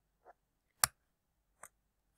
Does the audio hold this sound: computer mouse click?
yes